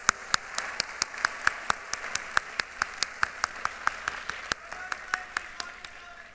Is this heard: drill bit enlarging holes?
no